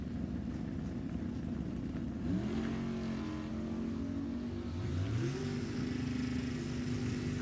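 Engines of a 1965 Chevrolet Nova and a 1966 Ford Mustang roar down a drag strip side by side, a steady loud drone that rises in pitch as they accelerate, with a second climbing engine tone joining partway through.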